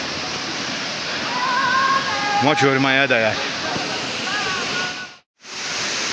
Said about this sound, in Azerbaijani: Dustaqxana şəlaləsi bir neçə mərtəbə şəlalədən ibarətdir.